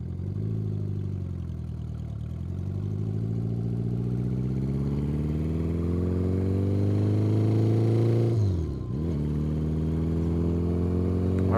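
Custom bobber motorcycle engine heard while riding, a steady loud rumble that rises through the gears, then drops sharply near the end as the rider downshifts and comes to a stop before pulling away again.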